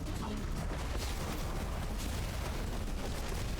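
Explosions in the video game Nine Sols: a dense, continuous roar of blasts and rumbling debris, loud and sustained throughout with no pauses.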